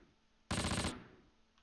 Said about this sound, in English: There's definitely shots coming from the west somewhere.